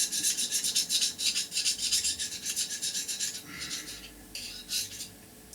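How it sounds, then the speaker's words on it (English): A half-round hand scraper rasps along the hard surface of a DS 25 milling machine in repeated close strokes, a steady scratchy rhythm of about a dozen passes that pauses briefly near the end. "I've got this halfway round scraper, and I'm just running it along the surface here"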